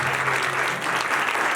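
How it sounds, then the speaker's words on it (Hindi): A church congregation applauds loudly and steadily, a dense, even wash of many hands clapping throughout with no break. "जोरदार ताली देंगे, प्रेज़ गॉड।"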